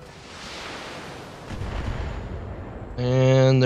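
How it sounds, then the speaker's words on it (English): Mechs trading weapons fire in the RogueTech mod of BattleTech, a rumbling barrage of heavy shots and impacts building over a few seconds, then a bright tonal, humming weapon sound cutting in near the end, with no talk over it. "they're firing at my allies"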